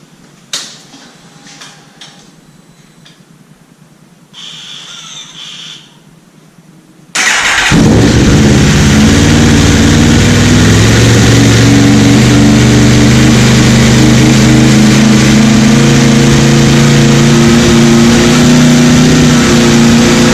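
A few quiet clicks, then an Aprilia RSV4 sport motorcycle with an Austin Racing GP1R exhaust fires up and holds a loud, raspy roar with a deep throaty rumble that continues steadily, close by.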